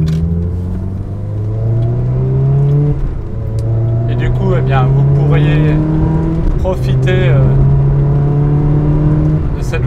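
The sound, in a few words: Ferrari 360 Modena car engine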